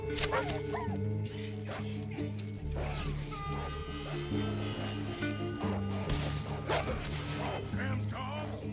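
Dogs or wolves bark, yip and whimper repeatedly while attacking in a video game, with crashing hits and a steady music bed underneath, close and busy throughout.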